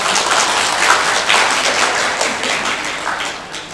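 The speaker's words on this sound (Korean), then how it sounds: "박수." Lecture audience applauds in a dense, even wash of clapping hands that holds at a steady level for a few seconds, with no voices over it.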